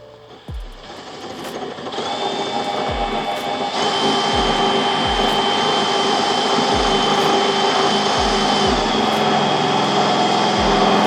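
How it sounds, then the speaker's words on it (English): A power drill bores holes while raised bed stiffeners are installed on a 4th generation Toyota Tacoma, a loud, sustained motor whine that climbs in pitch and holds, with repeated dull knocks underneath. "And we're gonna drill the other two now."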